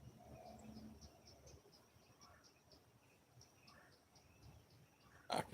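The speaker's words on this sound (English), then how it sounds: "I can hear the birds chirping." Faint birds chirp outdoors in a quiet yard after neighbours stop mowing, giving short, repeated tweets at a distance over a low hum, with a brief louder thump near the end.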